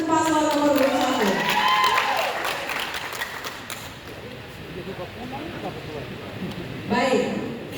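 Applause at a regional election debate in Lembata for candidate pair number one, with a voice and music over the opening, then a sustained, moderate patter of clapping from the audience and a brief swell near the end.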